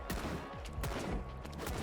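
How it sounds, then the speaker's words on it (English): Rapid shotgun blasts in a video game, a dense burst of sharp overlapping shots close up and loud, with game noise continuous underneath. "Yeah, he had the shotgun."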